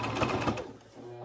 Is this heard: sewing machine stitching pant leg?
yes